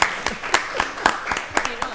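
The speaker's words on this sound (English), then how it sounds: "Just keep clapping for the September babies." A county board of commissioners meeting audience claps steadily for September birthdays, giving a rhythmic, fairly loud round of applause at about four claps per second.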